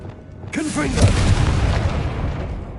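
A heavy magical blast from the Confringo fire spell in Hogwarts Legacy, a deep booming explosion with a long rumbling tail, close and loud, following a brief spoken incantation.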